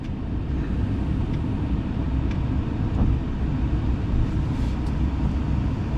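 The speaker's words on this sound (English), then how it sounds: "hitting this button right here will raise and lower this truck" A Kenworth W900L's air suspension pumps back up from its lowest setting, a steady low rumbling hiss close by with faint clicks, no talk.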